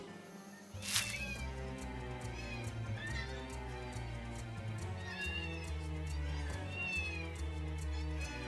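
A cat meows in the video game London Detective Mysteria, with several short rising cries over a steady game music bed and a sharp transient near the start.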